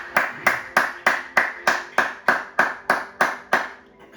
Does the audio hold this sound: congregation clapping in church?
yes